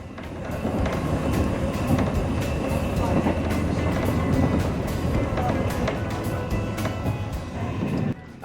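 A JR Chuo Line train runs through Nagano and Yamanashi, heard from on board as a steady rolling rumble with faint rhythmic clacks of wheels over rail joints.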